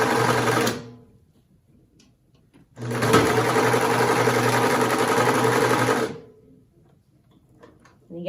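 A sewing machine stitches a tin tie into a cloth face mask in two loud, steady runs, about one second and then three seconds long, separated by near silence with faint handling sounds.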